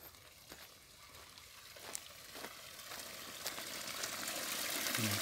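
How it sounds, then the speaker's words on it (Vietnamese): Water flowing in a small stream that runs down into a fishing pond in the countryside, a steady close wash of trickling and gushing that grows a little louder over the stretch, with no talk. "Đây có nước chảy nè,"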